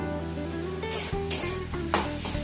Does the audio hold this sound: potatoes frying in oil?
yes